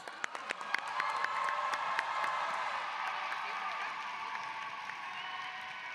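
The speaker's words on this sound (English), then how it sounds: "Can we give them a round of applause?" Graduation crowd at a Black Graduation and Kente ceremony breaking into sustained applause and cheering, with sharp early claps swelling into a dense, steady wash of clapping and whoops that carries on through the clip.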